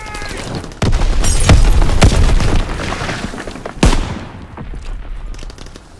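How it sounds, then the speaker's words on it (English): A grenade blast in Call of Duty WW2 multiplayer erupts in loud booming bursts amid dense gunfire, with a second heavy explosion a few seconds later, close and chaotic, no talking. "Tossing grenade!"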